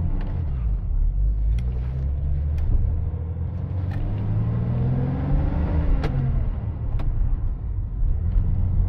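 1960 Austin Westminster A99 pulling away, a deep engine rumble rising in pitch as it accelerates, heard from inside the car, with occasional sharp clicks and knocks over the steady drone.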